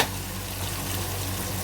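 Tomatoes and green chilies frying in a hot pan for a red lobia curry, a loud, steady close sizzle that holds even throughout.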